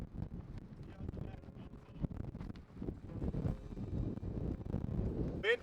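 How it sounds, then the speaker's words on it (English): Strong wind buffets the microphone on the open Pamir Highway, a steady low roar with gusts throughout. "The wind is so strong, pitching our tents doesn't seem feasible."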